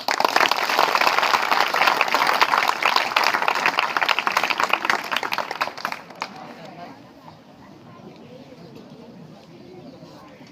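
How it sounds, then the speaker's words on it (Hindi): A group claps together on request during a yoga and breathing exercise session, a dense burst of hand claps for about six seconds before fading into quiet room noise. "ताली बजा दो।"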